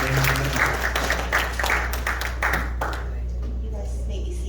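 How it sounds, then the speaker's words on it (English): Audience at a youth night gathering clapping hands in sustained applause, with a voice talking over the first few seconds before the clapping thins and fades. "Clap your hands, guys."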